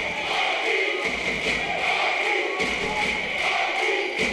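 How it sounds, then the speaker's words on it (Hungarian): Home crowd at a basketball game cheering and chanting for Michael Hughes, a steady, loud rhythmic roar with pulsing thumps, a commentator's voice audible over it. "Tetszik is ez most a hazai közönségnek. Michael Hughes-t éltetik."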